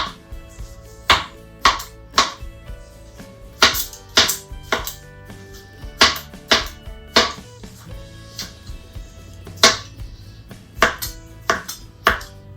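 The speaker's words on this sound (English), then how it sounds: "If not, just cut it up and leave it in there." Knife chopping mango and dragon fruit into fairly large pieces on a cutting board in a home kitchen, with a dozen or so crisp, uneven cuts coming close and clear, no talk.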